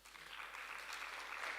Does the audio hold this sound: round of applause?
yes